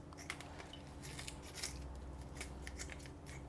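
Kitchen scissors snipping through raw duck pieces at the joints, a series of quick crisp cuts and crunches in an irregular rhythm, close up and quiet with no speech.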